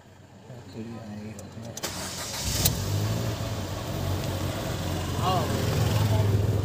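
A Ford EcoSport engine with a misfire and check-engine fault cranks and starts, then settles into a steady idle, with someone talking over it before and during the start.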